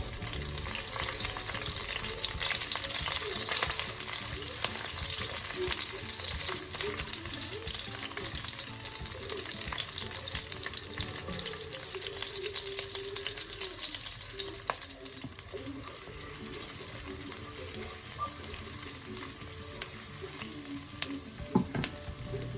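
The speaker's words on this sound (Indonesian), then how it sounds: "kita akan tumis terlebih dahulu bawang bombay hingga layu" Onions sautéing in a little hot oil in a wok for stir-fried capcay, a steady close sizzle with faint stirring and scraping running the whole time, no talk over it.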